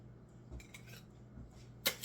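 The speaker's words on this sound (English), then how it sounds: "You want to scoop them into a bowl." A spoon scoops Italian sauce ingredients into a bowl: soft, quiet scrapes and taps, ending in one brighter clink of metal on the bowl.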